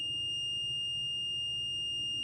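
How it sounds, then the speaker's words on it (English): A constant, thin electronic whine from a homemade Arduino alarm buzzer holds steady without pauses, quiet and alone over a soft low background rumble. "it's just going off continuously as an actual alarm"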